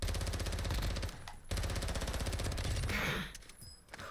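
Rapid video game gunfire fills the clip, a dense automatic burst that breaks off briefly and then resumes, loud and close, fading near the end.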